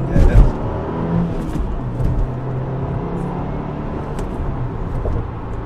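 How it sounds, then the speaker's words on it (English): A 2022 Subaru WRX engine revs and accelerates from inside the cabin, a low rumbling drone rising and settling at moderate loudness, with a brief thump at the start. "All right, let's give it some gas."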